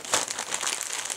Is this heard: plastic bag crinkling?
yes